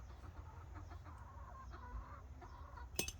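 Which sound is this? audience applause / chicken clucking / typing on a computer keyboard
chicken clucking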